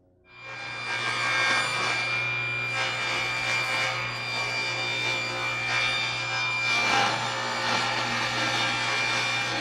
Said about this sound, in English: I'm going to cut strips of Luan that are 2 inches and 3/4 inches to go along the sides.